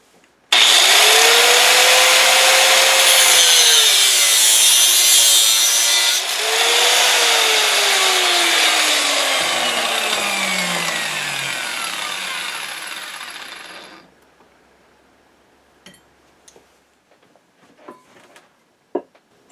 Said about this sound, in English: I am cutting some 3/8 inch wide copper rings from this 1/2 inch copper pipe